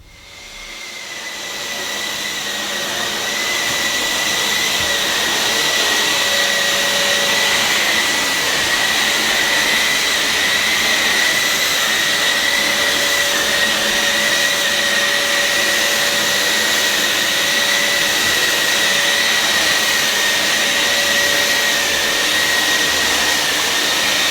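A Maytag Satellite vacuum cleaner, the 2000s UK version of the Hoover Constellation design, runs steadily with a loud, constant motor whine and airy roar, starting up in the first seconds and holding alone without talk.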